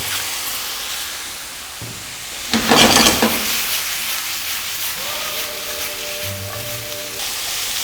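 A steady hiss of vegetables stir-frying in a pan with lean beef and garlic, with a brief louder burst of sizzling and scraping as ingredients go in, then settling back.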